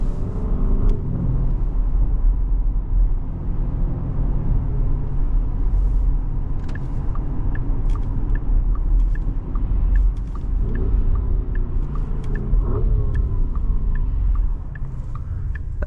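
A 2024 Porsche Cayenne S Coupe with a 4.0L V8 idles steadily in Sport Plus mode, a continuous low rumble heard from close by, with small ticks and clicks over it and no talking.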